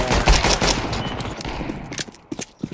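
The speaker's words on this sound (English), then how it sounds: "Fate has it that El Stretcho's bullets still find me and he vanquishes me once" Rapid bursts of gunfire in a shooter video game, dense and loud at first, then thinning into scattered separate shots near the end, with no talking.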